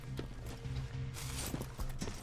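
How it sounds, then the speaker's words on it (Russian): Heavy metallic footsteps of a Terminator robot in Terminator: Resistance, a steady run of repeated clanking impacts close by and fairly loud, with no talk over them. "Я слышу эти металлические шаги."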